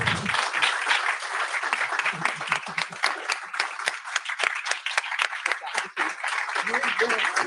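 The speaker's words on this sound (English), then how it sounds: "Let's have a round of applause for our candidates." Audience applause for Fort Worth mayoral runoff candidates at a law school forum, a smaller crowd clapping in uneven bursts that thin out and pick up again.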